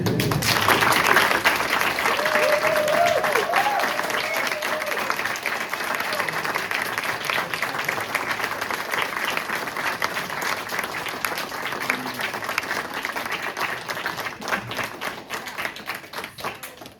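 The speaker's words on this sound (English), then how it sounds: "Okay, you can clap now." Audience at an English colloquium presentation applauding, steady sustained clapping from a roomful of people with a brief voice early on, tapering slightly toward the end.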